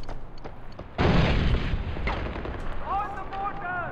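A grenade explosion in Far Cry 4 lands as a sudden heavy boom with a rumbling blast that decays, and bright tonal game effects ring out near the end.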